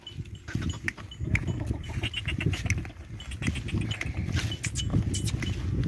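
Goat being walked at a goat market (Sahiwal Mandi) among Beetal and Nagra breed goats, hoof patter and shuffling on the ground amid a busy, noisy crowd backdrop with continuous low rumble.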